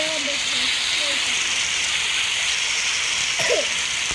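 Steady rain pours down in the survival game 99 Nights, a constant hiss filling the scene throughout, with a few faint tonal game sounds near the start and a brief sharper blip toward the end.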